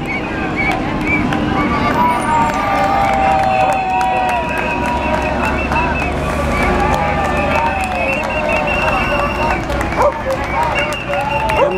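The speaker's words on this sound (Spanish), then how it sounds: "los profesores están aplaudiendo a la agrupación de familiares de detenidos desaparecidos que viene pasando" Teachers clap for a passing group of relatives of the detained and disappeared during a street march. Scattered handclaps and cheering rise from a bustling outdoor crowd, with steady babble and talking underneath.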